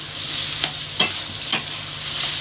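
Chopped tomatoes sizzling in hot oil as they are stirred in a pan, a steady bright frying hiss close by, broken by a few sharp scraping clicks of the spoon.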